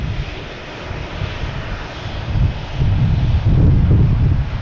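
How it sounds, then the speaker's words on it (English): Embraer jet engine roaring at Boston Logan Airport, a broad steady rumble that swells louder over the last seconds as the aircraft passes close, with some wind buffeting the microphone. "here's that Embraer"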